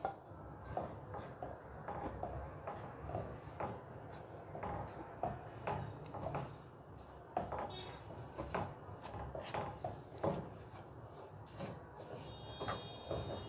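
Roasted panjiri mixture with ground chana dal being stirred in a pan, giving soft, repeated scraping and tapping strokes at a low level with no talk over it.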